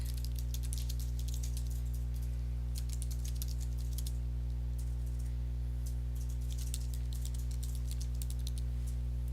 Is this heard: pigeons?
no